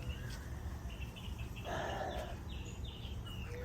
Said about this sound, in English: What a bird that was, huh?